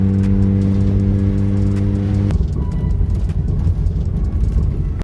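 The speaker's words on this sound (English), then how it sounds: "I'm sitting in the parking lot and it's idling." A Jeep Cherokee XJ idles in a parking lot, a loud steady engine hum that shifts to a rougher, broader rumble partway through and keeps running.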